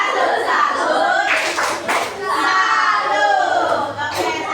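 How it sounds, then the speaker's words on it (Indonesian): A classroom group claps a rhythmic patterned cheer together, loud and close, with children's voices chanting along in a lively burst. "kita kasih tepuk salut untuk kelompok 5"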